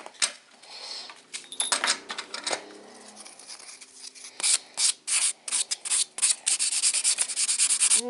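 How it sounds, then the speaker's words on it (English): An acrylic nail being buffed with quick back-and-forth strokes, a close, dry scratchy rubbing that starts in bursts and grows into a rapid rhythmic series of swipes. "I'm going to give the nail a quick buff."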